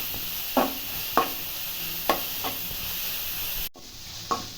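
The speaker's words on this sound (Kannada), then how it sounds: "ಶುಂಠಿ ಬೆಳ್ಳುಳ್ಳಿ ಪೇಸ್ಟ್ ಹಾಕ್ತಾಯಿದ್ದೀನಿ ಇದು ಒಂದು ನಿಮಿಷ ಅಕ್ಕಿ ವಾಸನೆ ಹೋಗೋ ತನಕ ಫ್ರೈ ಮಾಡಬೇಕು" Ginger garlic paste frying in a pan for egg rice, a steady soft sizzle broken by a few sharp stirring scrapes and knocks at irregular intervals, with no talking.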